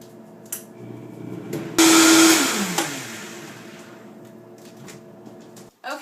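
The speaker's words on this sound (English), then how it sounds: "we've got everything blended up, pretty liquefied here" A blender whirs loudly as it blends parsley and other raw juice ingredients. It starts abruptly, holds a steady high-pitched roar for about a second, then winds down. A quieter motor hum lingers before it cuts off.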